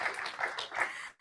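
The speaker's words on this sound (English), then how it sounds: "So you can clap for a successful year for those outcomes." Audience at a school board meeting clapping, a brief patter of applause that cuts off abruptly after about a second.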